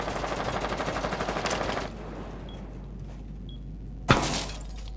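Gunfire in the video game Rainbow Six Siege: a rapid rattling burst of automatic shots for about two seconds, then a single loud, sharp shot near the end, with no talking.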